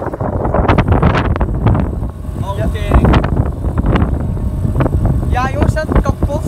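Strong wind buffets the microphone on a small boat, a loud continuous rumbling roar with gusty surges throughout, while people talk in Dutch underneath and over it.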